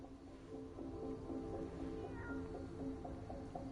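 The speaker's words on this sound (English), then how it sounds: "I heard a kitty" Cat meowing in Life Is Strange: Reunion, several repeated mews rising over a steady game background hum, fairly close and clear, with no talk.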